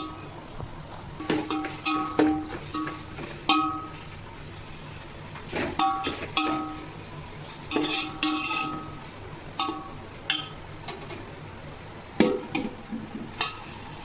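Tomatoes sizzle in a hot pan while being stirred, soft continuous frying hiss with repeated scraping clinks and clatters of a spoon against the pan at irregular intervals, close and moderately loud.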